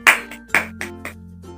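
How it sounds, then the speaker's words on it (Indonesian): A class of secondary-school students claps together on cue in a classroom: a short rhythmic pattern of about five sharp, close group claps, the first two strongest, over a faint steady hum. "Tepuk tangan"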